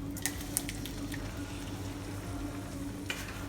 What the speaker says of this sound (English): So now we just pour everything in.